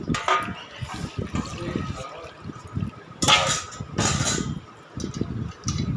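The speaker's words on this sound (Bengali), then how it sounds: "এবারে আমি একটু ধুয়ে জল দিয়ে ধুয়ে নিচ্ছি" Splashing and sloshing water as cut potatoes are rinsed by hand in a bowl, in uneven bursts with brief louder surges.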